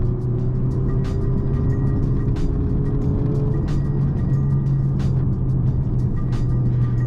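Steady cabin drone of a 10th gen Honda Civic on lowering springs driving uphill, low engine hum with faint road noise, continuous and close with no talk.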